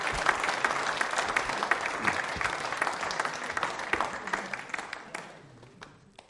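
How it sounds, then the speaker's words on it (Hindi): Studio audience at a quiz show on India's Constitution gives a lively round of applause, many hands clapping loudly before gradually thinning and fading out over the last second or so. "इस जानकारी के लिए भी आप बजा सकते हैं तालियां"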